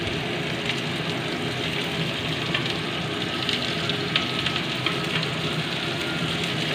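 Ridge gourd peel sizzling in hot oil with green chilli and garlic, a steady, dense fry hiss that carries on evenly and fairly loud throughout.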